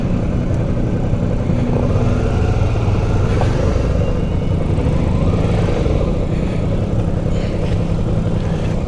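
An adventure motorcycle rolls into event parking at Mid-Ohio Raceway, its engine droning loud and steady close by, with a broadband rumble and wind noise running throughout and no talk.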